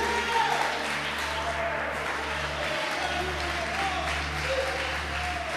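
A church congregation applauding together, a dense, steady wash of clapping with crowd voices and a low sustained hum underneath.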